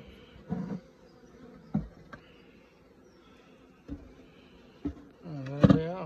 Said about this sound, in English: Oh, there they are, bees.